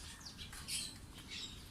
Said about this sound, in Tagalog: Ito pa rin, yung mga lovebirds natin, nandito pa rin oh.